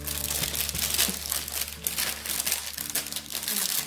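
Playmobil Heidi school lesson set packaging is unwrapped, a dense, continuous crinkle and rustle of plastic wrap close by, steady and loud throughout with no talking.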